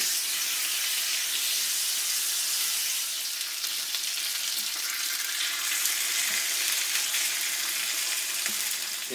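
Egg frying in a pan alongside bacon, a steady, bright crackling sizzle that stays constant throughout, with occasional faint pops and no talk.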